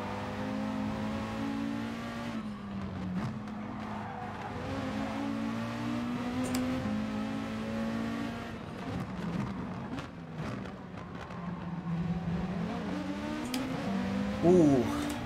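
A Peugeot race car in Gran Turismo Sport revs and accelerates steadily, its engine note climbing and falling through gear changes with brief tire squeals, while a voice talks over the continuous engine drone.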